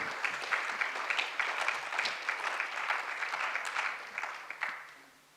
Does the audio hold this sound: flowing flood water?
no